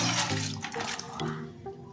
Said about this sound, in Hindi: अब इसमें 2 गिलास हम तकरीबन पानी डाल देंगे